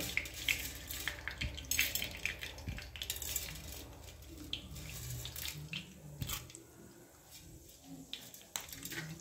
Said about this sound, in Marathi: आता आपण त्याच्यामध्ये सर्वात पहिले ही जी हरभऱ्याची डाळ आहे ती घालायची, मग छान भाजून घ्यायची आपल्याला